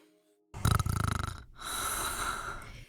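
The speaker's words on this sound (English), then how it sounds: "Snoring quite loudly." A character in the video game Kathy Rain 2 snores loudly: a rapid pulsing snore after silence, then a long raspy breathy exhale, alone with no talk.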